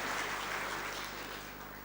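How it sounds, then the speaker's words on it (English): An audience applauds at the KEPSA 10th anniversary celebration, a steady wash of clapping that stays fairly faint and distant throughout, tapering slightly toward the end with no voices over it. "something that I think all of you deserve a round of applause"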